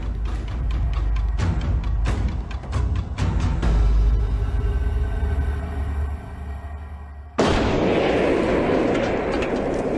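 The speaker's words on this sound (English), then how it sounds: "the explosion has just dug a big hole" A large charge of explosives detonates beneath a Marauder armored vehicle, giving a series of heavy, booming blasts and cracks with rumbling low end, then a sudden loud burst of broadband roar near the end.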